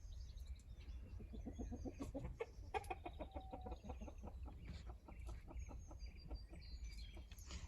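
A small call duck quacks in a busy, repeated run of harsh calls, fairly close, with a steady outdoor background and no talking.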